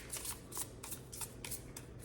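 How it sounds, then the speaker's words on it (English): A tarot deck with smooth cardstock is shuffled by hand, giving repeated crisp riffling bursts in a steady rhythm, close and fairly quiet, with no talking. "I love how this shuffles."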